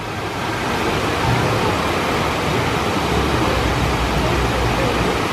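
Water flows at the Animal Kingdom theme park, a steady, loud rushing that resembles a waterfall, heard near a small bridge, continuous and even throughout with no talk.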